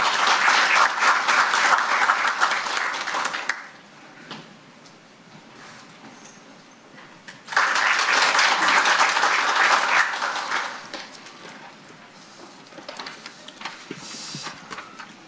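Attendees at a policy forum on tidal power and seawater circulation for Saemangeum applaud in two loud bursts of clapping, separated by a lull of scattered claps, before the noise tapers off.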